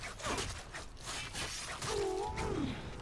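A brutal Organ Shatter melee finisher in the game Warframe lands with crunching, shattering impacts and creaking mechanical clatter, dense and close amid game effects.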